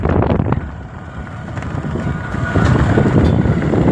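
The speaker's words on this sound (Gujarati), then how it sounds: "અત્યારે તમારો વરસાદ નથી પવન છે" Wind gusts across an open fairground at night during the Ashadhi Bij fair at Parabdham, a steady rough rumble of air buffeting the microphone, loud and continuous without rain.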